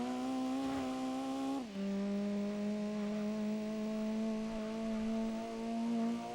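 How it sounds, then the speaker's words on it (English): A car engine in the racing video game Gran Turismo 2 holds a steady tonal hum, dropping in pitch briefly after a gear change and then slowly climbing again, quiet and without talk. "Listen to that engine."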